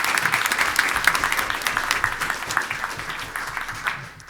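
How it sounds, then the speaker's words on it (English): An audience at a board of education meeting applauds spelling bee winners, a full steady wash of clapping from many hands that holds fairly even, then fades out in the final half second. "So let's have another big round of applause for these great spellers."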